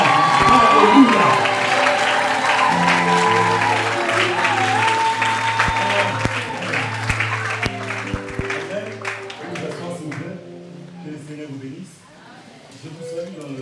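A church congregation claps and acclaims loudly at first, with voices raised in praise and ringing tones over the applause, which thins into scattered claps and speech before fading.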